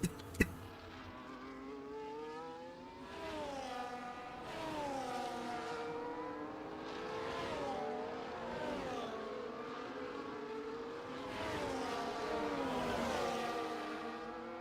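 Several F1 24 race cars slide through a wet final turn in the Portugal round, their high engines whining and shifting pitch as they rise and fall together, continuous and moderately loud, with a sharp click at the start.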